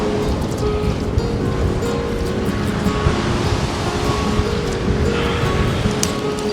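Surf breaks on North Donmouth Beach in Aberdeen, a steady broad roar of waves with wind noise, continuous and fairly loud with no speech.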